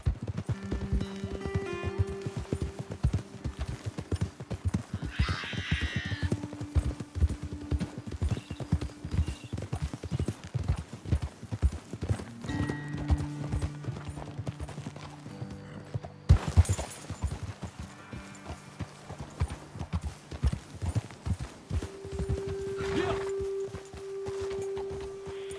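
Horses' hooves clip-clop steadily and close in Red Dead Redemption 2, with brief whinnies, a short burst of gunfire around the middle, and occasional game sounds.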